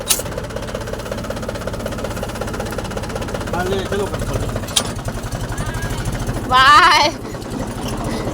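A tractor engine runs steadily at an idle-like chugging throb on a farm, with people talking over it throughout and a brief louder burst near the end.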